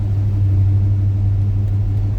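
A carbureted Chevy C10 pickup engine, a 1978 or 1984 truck not started in weeks, idles steadily just after starting, a deep, even, close rumble with no voices over it.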